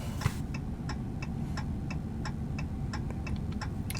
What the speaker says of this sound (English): Left indicator.